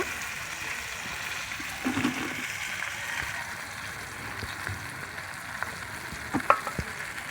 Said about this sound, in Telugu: మంచిగా ఫ్రై చేశాను ఇట్లా ఇక ఇవన్నీ ఇట్లనే వేయించుకోవాలి